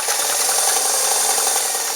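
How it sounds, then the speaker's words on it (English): A Sears Kenmore sewing machine sews a long straight stitch, giving a steady, close mechanical whir and rattle that runs unbroken throughout. "So we're going to be sewing a straight stitch."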